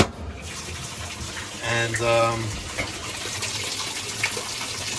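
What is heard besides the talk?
machine filling with water on a quick rinse cycle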